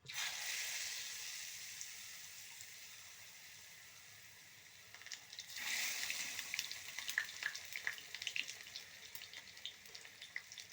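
Panikoorka bajji fritters fry in hot oil with a steady broadband sizzle that stays fairly faint, swelling louder around the midpoint as crackles and pops pick up through the rest of the clip.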